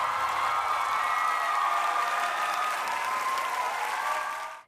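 Students in an audience applaud and cheer after a special performance by a choir. The clapping is dense and sustained, then fades out at the end.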